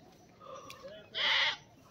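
A goat on a village farm in the morning gives one short, loud bleat after a stretch of quiet rural background with faint calls.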